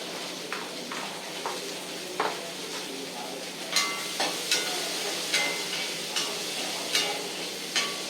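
Onions and green chillies fry in a pan with a little salt for semolina dosa, giving a soft steady sizzle punctuated by regular scraping stirs and light clicks against the pan, with no voices.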